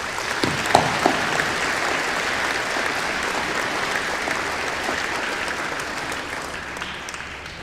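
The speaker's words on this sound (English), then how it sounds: "Would you join me in giving them a round of applause?" Audience applause at a school veterans assembly for the Indianola Fine Arts Program's performers: a dense, steady wash of many hands clapping for several seconds, loud and sustained, with no talking over it.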